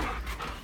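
A dog pants rapidly and close up, giving a short burst of breathy, rhythmic huffing.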